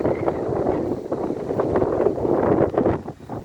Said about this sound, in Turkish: Rüzgar var, buraya kış geldi.